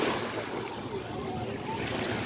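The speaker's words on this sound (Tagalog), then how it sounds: "dagat." Steady wash of sea surf on a beach with wind buffeting the microphone, a continuous roar without pause.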